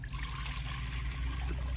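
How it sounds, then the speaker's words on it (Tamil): Water is poured over pannai keerai greens in a home kitchen, a steady close trickle and splash running unbroken for a couple of seconds with no talk. "கீரைக்கு கொஞ்சம் முன்னாடியே தண்ணி ஊற்றிக்கலாமா."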